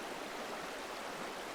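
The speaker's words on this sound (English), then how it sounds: "These raging waters are not a game." Raging river water in Vaupés, Colombia rushes in a steady, dense roar, continuous and fairly close, with no voices over it.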